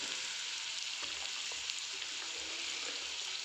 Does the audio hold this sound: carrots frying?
yes